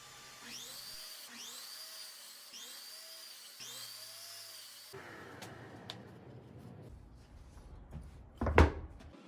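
Power saw cutting plywood pieces for table saw sled fences: four repeated rising-and-falling whining cuts in succession, followed by a rougher spinning-down rumble, clattering of workpieces and a sharp loud knock near the end.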